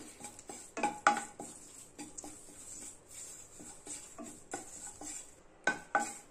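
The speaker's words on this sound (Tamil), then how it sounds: "இதுல கொஞ்சமா கருவேப்பிலை சேர்த்துக்கலாம். வணக்கிக்கலாம்." Curry leaves sautéed in a kadai, heard as repeated spoon-on-metal scrapes and clinks with faint frying underneath, close and moderately loud, no voices.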